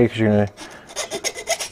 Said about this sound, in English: I forgot to get a file, so I'm gonna run a file